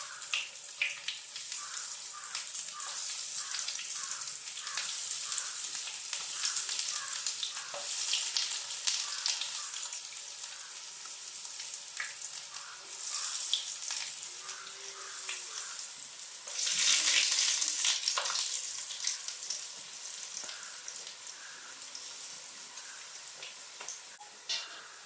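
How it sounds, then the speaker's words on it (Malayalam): Chicken nuggets frying in hot coconut oil with a steady, dense sizzle throughout, swelling louder briefly partway through, no talking. "നമുക്ക് ഓരോന്നും എണ്ണയിലേക്ക് ഇട്ട് കൊടുക്കാം."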